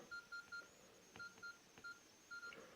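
Keypad tones from a Nokia E61i phone (2006 model): short beeps, mostly in pairs and triples with brief gaps between them, clear and fairly close with a few soft clicks from the keys.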